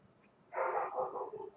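Dogs bark in a short burst of two or three yelps and barks, moderately loud against a quiet background, in a tabletop game about a den of wolves.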